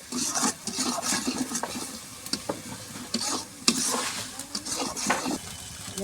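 A spoon stirring chicken frying in spices in a pan, village-style cooking, with repeated scraping strokes over a soft sizzle, close and fairly quiet.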